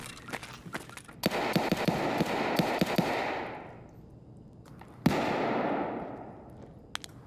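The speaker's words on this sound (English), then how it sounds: "He's shooting at someone else." Gunfire in the video game Escape From Tarkov: a few sharp shots followed by a burst of rapid firing, then another loud crack after a short lull, all at moderate distance with no speech.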